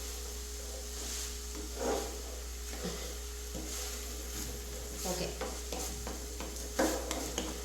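Banana flower thoran, a Kottayam-style stir-fry, is stirred in a pan: soft scraping and clinks of a spoon over a faint low sizzle, fairly quiet against a steady background hum.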